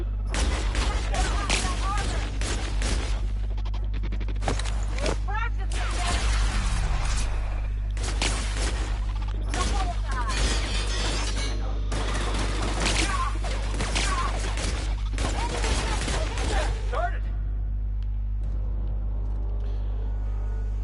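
Rapid bursts of gunfire from shooting robots in The Outer Worlds, loud and dense over a steady low hum, with booms, whooshes and clattering impacts running through most of the stretch before thinning out near the end.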